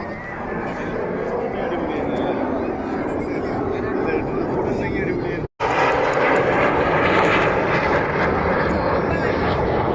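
An airplane roars loudly and steadily overhead at the Abu Dhabi National Day air show, with an engine drone that stays constant throughout apart from a brief dropout midway. Voices carry on underneath the engine noise.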